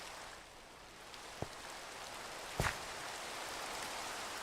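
Steady rain hisses in a Minecraft world, a continuous wash of noise with a couple of brief splashy clicks, and no talking.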